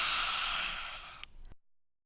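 A single lion's breath exhale during a vinyasa yoga class: a forceful, breathy open-mouthed rush of air, close and fairly quiet, tapering off and ending abruptly after about a second and a half.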